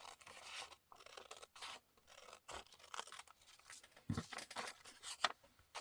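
Scissors snip through paper by hand for a craft tag project, a series of quiet, close crisp cuts and rustles in irregular rhythm, alone without talk.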